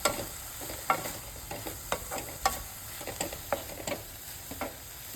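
A banana flower stir-fry is stirred in a pan, with soft, irregular scraping and tapping strokes over a faint, steady frying hiss, fairly quiet and without voices.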